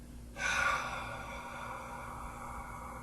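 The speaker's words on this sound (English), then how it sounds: "But if you exaggerate the exhale" A single forceful, exaggerated exhale of breath, loud and breathy near the microphone, starting abruptly and trailing off into a steady faint hiss.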